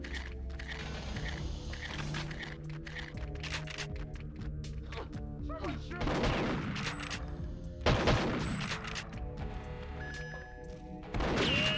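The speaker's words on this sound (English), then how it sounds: "Oh shit, enemy rockets." Rockets and gunfire fire in the Perfect Dark Chaos mod video game, with dense, busy shots and bursts layered over game music and effects, growing louder in sharp surges near the end.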